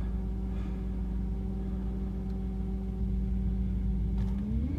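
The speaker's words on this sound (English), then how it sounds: "She always fires up in the end." A 1997 BMW 740iL, cold after sitting five months with little gas in the tank, idles with a steady, close, low engine rumble and a slight rise in pitch near the end.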